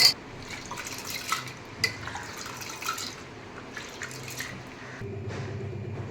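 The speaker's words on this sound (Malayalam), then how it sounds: "നമുക്കിനി ഇത് വൃത്തിയായിട്ട് കഴുകി എടുത്തുകൊണ്ട് വരാം." Toor dal being washed under a running kitchen tap, with steady splashing and trickling water, occasional louder sloshes as the lentils are stirred, and a shift to a fuller, lower stream near the end.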